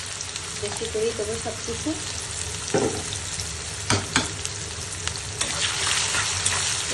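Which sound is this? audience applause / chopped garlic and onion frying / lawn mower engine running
chopped garlic and onion frying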